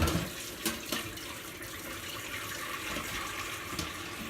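Tap water runs steadily into a large pot, a continuous splashing rush heard close with no talk over it.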